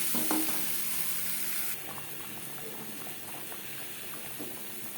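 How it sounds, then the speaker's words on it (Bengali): Boiled potato halves fry in a pan with salt, turmeric and red chilli powder, giving a steady close sizzle that drops a little partway through and keeps crackling softly. "লবণ হলুদ সামান্য পরিমাণে লাল লঙ্কার গুঁড়ো দিয়ে আলু ভেজে নেব"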